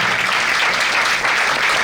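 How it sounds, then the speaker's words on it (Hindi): A church congregation on Christmas Eve applauds to welcome a preacher to the pulpit, a full, continuous wash of clapping held at a strong, steady level. "मैं आपकी जोरदार तालियों में खुदा के खादिम को दावत देता हूं"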